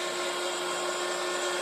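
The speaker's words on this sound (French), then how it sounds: "je vais sécher ça avec mon heat gun" A heat gun runs steadily, drying ink on a handmade greeting card, giving a continuous close whirring blower hum with a high whine that stays even throughout.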